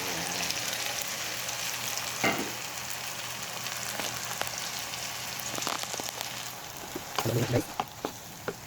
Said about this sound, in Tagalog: Ihulog na po natin yung chicken breast guys.